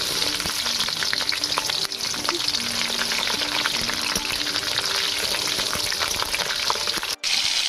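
Tomato masala for a prawn curry sizzles steadily in a pan while being stirred continuously, a dense, close frying hiss with scattered spoon scrapes and small pops, alone with no talk.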